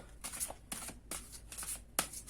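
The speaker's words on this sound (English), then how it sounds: "let's go ahead and start shuffling" Tarot cards shuffled by hand in quick, papery riffling bursts, four or five crisp rustles close to the mic in an uneven rhythm, with a sharper snap near the end.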